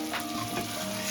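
Chicken pieces dropped into a pan of frying curry spice paste, giving a steady close sizzle and hiss with light stirring scrapes, no talking.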